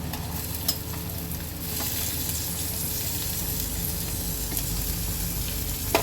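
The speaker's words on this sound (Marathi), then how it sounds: "आपण आता त्याच्यामध्ये कांदा टाकून घेऊया" Onion sizzling in hot oil with garlic and ginger for a spicy Maharashtrian dal, a steady dense frying hiss that grows slightly louder partway through, with occasional stirring scrapes and no talk.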